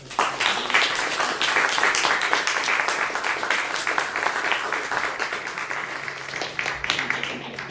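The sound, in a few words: audience applause after a concert talk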